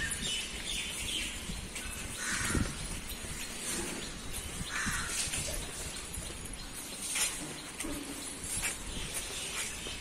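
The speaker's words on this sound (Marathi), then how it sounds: "ते पोपटांचा आवाज येतो" Large parrots call in the early morning, faint and distant, their scattered chirps and squawks rising now and then over a quiet outdoor background.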